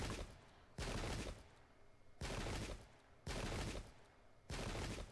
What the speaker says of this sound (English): Painful volleys in this centre.